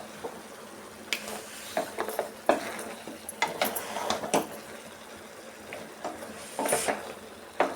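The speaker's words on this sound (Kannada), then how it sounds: "ಮಸಾಲೆ ಎಲ್ಲ ಪೀಸಸ್ಗೆ ಹಿಡಿಸೋ ಥರ ನಾವು ಸ್ವಲ್ಪ ಫ್ರೈ ಮಾಡ್ಕೊಬೇಕು" Sheep head and trotter mutton pieces fry in ground masala in a pan, with a soft sizzle under repeated scraping and clinking strokes of a stirring spoon, irregular and close, with no voices.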